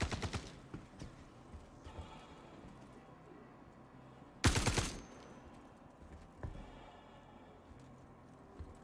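Suppressed shots from a silenced gun in the video game Star Citizen, a few sparse muffled pops spread apart with one sharper, louder burst midway, set against a quiet background.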